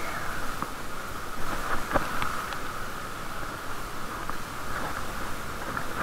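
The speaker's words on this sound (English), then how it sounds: "the camera is in a waterproof case and it's raining, a raining, a little more than drizzle" Rain a little heavier than drizzle, heard muffled through a camera's waterproof case on a Dutch bike ride, as a constant dull hiss with a few faint taps and no voices.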